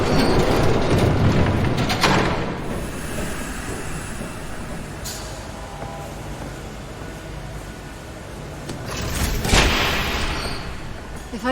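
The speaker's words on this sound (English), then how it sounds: "There's a train coming." In Batman Telltale, a heavy train roars past with a continuous rumbling clatter of wheels on rails, loudest at the start, then easing off before swelling again near the end.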